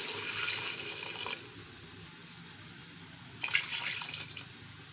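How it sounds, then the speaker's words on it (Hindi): Two glasses of water poured into a pot of frying mutton and peas curry, each pour a short rushing splash with a hissing burst, separated by a quieter gap of low sizzling. "अब इसमें ऐड करेंगे 2 गिलास पानी"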